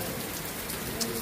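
Rain falls steadily in a continuous dense hiss of drops striking surfaces, loud and near for a short stretch, with no talk.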